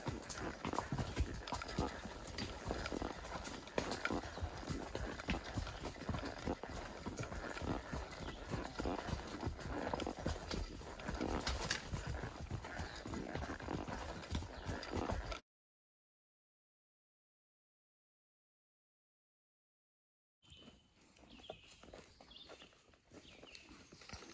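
Horse hooves clip-clop in a steady walking rhythm on a mountain trail ride in the Great Smoky Mountains, close and continuous, breaking off into silence before resuming.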